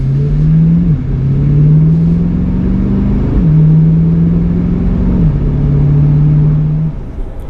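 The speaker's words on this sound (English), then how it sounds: "American pushrod V8" A C8 Corvette's American pushrod V8 drones loudly and steadily, its pitch climbing slowly then dropping in three repeated cycles, like gear changes under acceleration, with no voices.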